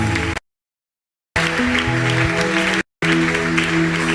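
Church congregation applauding in bursts of dense, steady clapping, broken by two short silent gaps.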